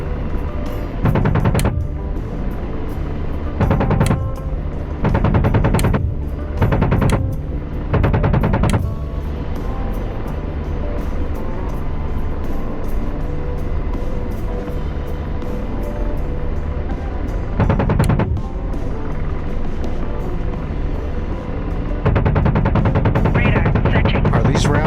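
Heavy gunfire in a Cold War era Syria war simulation game comes in repeated loud bursts of rapid machine-gun fire, with a near-constant engine drone between the bursts and occasional voices over it.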